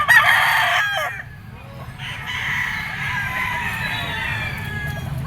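Gamefowl roosters crow at a pet market, one loud close crow up front followed by further crowing and clucking from other birds, with a low background murmur of the busy shop.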